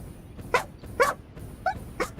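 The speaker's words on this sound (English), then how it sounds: "Dogs are barking." Indoor dogs give four sharp, fairly close barks at uneven intervals over faint background hum.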